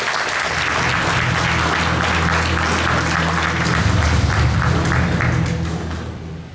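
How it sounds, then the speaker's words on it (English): A large audience at a tech and engineering event gives loud, sustained applause, a dense roar of clapping that holds steady for several seconds before fading near the end. "give the big round of applause for the people."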